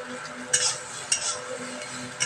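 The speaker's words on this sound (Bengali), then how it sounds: "দিয়ে এগুলোকে নেড়ে ফেলে একটু ভাজা ভাজা করে প্রথমে তুলে রেখে দেবো" Soybean chunks with spices fry in a pan under a steady low sizzle, while a utensil scrapes and clacks against the pan in three sharp strokes spaced out across the stirring.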